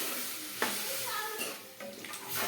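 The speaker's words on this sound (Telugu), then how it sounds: "ఇందులోకి కొన్ని వాటర్ పోసుకుందామండి." Water poured into a cooking pot for a Telugu drumstick-leaf and sesame-cake curry, a short splashing run with a few brief bursts of louder sloshing, close by and moderately quiet.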